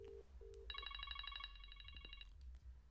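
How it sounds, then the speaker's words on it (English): A standard phone ringtone plays faintly: two short low beeps, then a rapid, bright warbling trill lasting over a second and a half, all set against low background hum. "We can also hear what your ringtone is."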